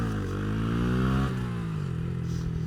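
A Honda Grom motorcycle revs up for a wheelie, engine pitch climbing steadily, then dropping sharply as the throttle closes, close and brief.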